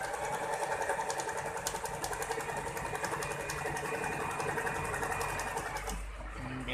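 Usha Janome Allure automatic sewing machine stitching a zigzag-style pattern, a steady rapid mechanical whirr running nearly the whole time, close and loud, then stopping near the end.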